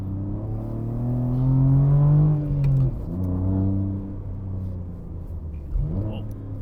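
A BMW G80 M3 drives along a road, its engine note rising and then falling in a smooth rumbling pull, with the steady hum of the car continuing throughout.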